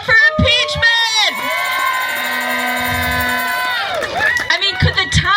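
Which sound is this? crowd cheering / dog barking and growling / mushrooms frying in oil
crowd cheering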